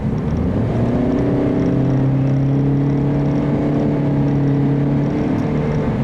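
The small engine of a 2013 Chevrolet Spark steadily rising in pitch as it accelerates sluggishly, a smooth continuous drone close by with no talking.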